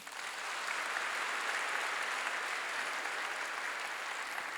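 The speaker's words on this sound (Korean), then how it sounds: "왜 박수 안 쳐요?" A church congregation claps in a steady, dense roar of applause, loud and continuous from start to finish, with no voices rising above it.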